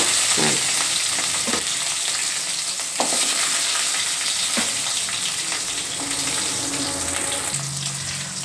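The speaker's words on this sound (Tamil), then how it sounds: "இப்போ நல்லா பொரிஞ்சிக்கிட்டு வருது. வெங்காயத்தை போட்டுருவோம், சின்ன வெங்காயம்." Shallots frying in hot oil for a garlic and pepper kuzhambu, a steady close sizzle and crackle with a few stirring scrapes throughout.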